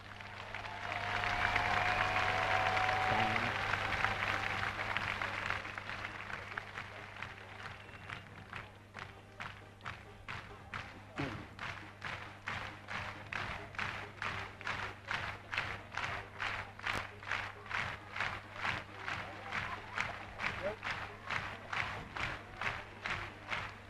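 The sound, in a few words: arena crowd clapping hands and stomping feet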